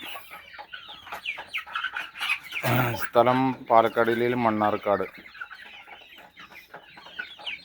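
Several native chicks cluck and chatter close by, with a louder burst of squawking calls in the middle, while someone speaks over them.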